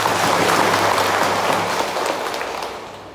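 Congregation clapping inside a Catholic church during a parish feast day, a dense, loud round of applause that starts at full strength and slowly thins out over about three seconds, with no voices over it.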